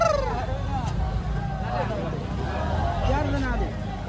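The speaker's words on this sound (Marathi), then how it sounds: "आता ट्रॅफिक पहा तुम्ही" Road traffic crawling through a dense crowd at a village band procession, vehicle rumble and crowd babble blending steadily under someone talking close by.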